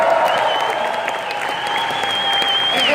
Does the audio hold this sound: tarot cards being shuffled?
no